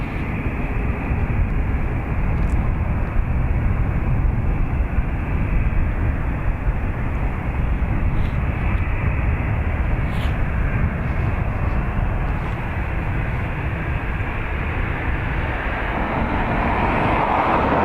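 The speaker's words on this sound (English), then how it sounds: "A320, taxiing behind me." Airbus A320 taxiing at Dublin Airport, a continuous broad engine rumble and roar, loud and steady throughout with only slight swells.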